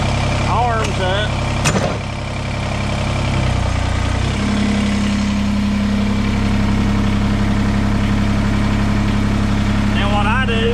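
Kubota BX2380 compact tractor engine idles with a steady low drone, its pitch shifting slightly partway through, with short mechanical clicks and scrapes near the start.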